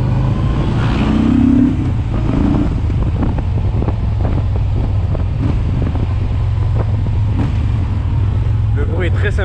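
Engine of a 2020 Yamaha XCR 950 scrambler motorcycle with its stock exhaust, a steady low rumble mixed with wind buffeting while riding, with someone talking over it throughout.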